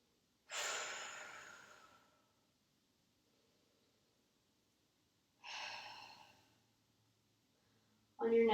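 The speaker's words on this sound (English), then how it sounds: "Deep breaths." Slow, deep breaths during a gentle yoga session, each long airy inhale or exhale clearly audible and close, separated by quiet pauses, with no talking.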